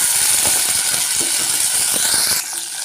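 Cluster beans drop into hot oil already crackling with cumin seeds and asafoetida. A loud, bright hiss comes with rapid ticking crackles, then eases to a quieter sizzle near the end.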